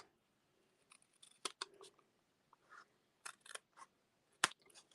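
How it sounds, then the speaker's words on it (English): Scissors snip paper being trimmed for a handmade card, sounding as a handful of short, crisp cuts scattered across quiet pauses, close and fairly faint with no talking. "let me just go and trim this part off."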